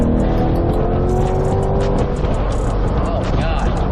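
Close, loud engine of a 2023 C8 Corvette HTC 70th Anniversary in Z mode, a deep, throaty rumble with rising revs and cooling fans whirring, under a voice speaking.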